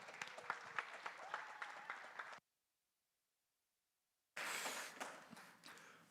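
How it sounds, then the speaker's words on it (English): An audience at a pitch event applauds in a burst of dense, lively clapping, then the sound cuts out completely for about two seconds before the clapping resumes just as strongly and gradually thins. "Let's give a big round of applause to Morgan Johnson."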